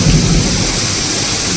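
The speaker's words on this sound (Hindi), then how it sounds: "सुन सकते हो बिजली" Thunder rolls as a deep, loud rumble through heavy, pounding rain, with the roar of the downpour filling every moment of the short stretch.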